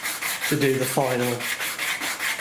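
Balsa wood rib blanks sandwiched between plywood templates being sanded by hand for an RC model aeroplane, giving a steady rhythmic rasping rub in repeated strokes, close up, while a person talks briefly partway through.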